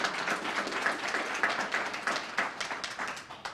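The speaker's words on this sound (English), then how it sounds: "So if we can give the museum and the staff a round of applause." A museum audience at a forum applauds with dense, continuous clapping from many hands, holding steady and then easing slightly toward the end.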